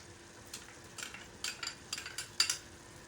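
Onions go into a pan of beef jalfrezi with fried yogurt, bringing a soft, faint sizzle under quiet spoon clinks and scrapes that come in short, irregular bursts.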